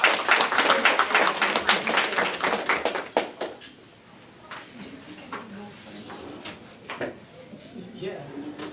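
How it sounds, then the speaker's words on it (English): An audience applauds presenters at a Sigma Delta Pi celebration: brisk clapping for about three seconds, then it fades into scattered claps, shuffling and murmured talk, with a few late claps. "let's give our presenters a round of applause."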